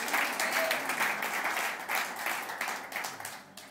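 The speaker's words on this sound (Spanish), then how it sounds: "Den un aplauso a Cristo el Señor." Congregation applause in a church service, full steady clapping from a large audience with a few voices underneath, gradually easing off toward the end.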